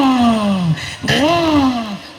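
A voice imitates a small motorbike engine at a village race, with two quick, close, loud nasal revving whines that fall in pitch, one after the other.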